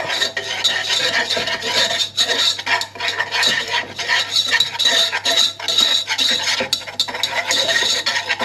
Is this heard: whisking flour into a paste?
yes